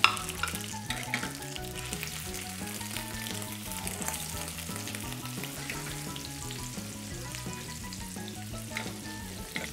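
Chunks of garlic and lemon zest frying in hot oil, a dense continuous sizzle close up with a low steady hum beneath it.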